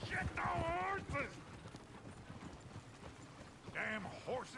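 Hooves clip-clop in a quick rhythm under intermittent voices, with a horse whinnying briefly at the start and near the end, from the video game Red Dead Redemption 2.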